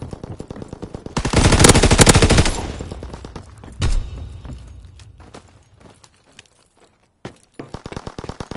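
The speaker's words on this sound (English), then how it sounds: "Anti-aircraft bursts commenced." Anti-aircraft gunfire in a video game: a loud, dense rattling burst of rapid shots, a second heavy blast, then sporadic fainter shots and clatter fading out.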